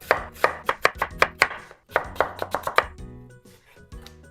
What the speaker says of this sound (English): Then also cut this into strips.